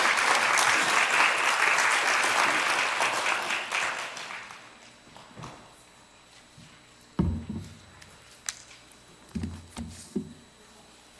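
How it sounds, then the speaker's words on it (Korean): A church congregation applauds in welcome as an elder comes forward, broad steady clapping for about four seconds that fades out, followed by scattered footsteps and thumps in the hall. "우리 박수로 한번 환영하십시다"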